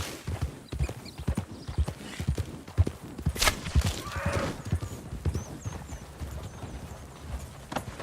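Horse hooves clip-clopping steadily as a mount is ridden in the Red Dead Redemption 2 game, with a brief whinny partway through and continuous irregular footfalls close by.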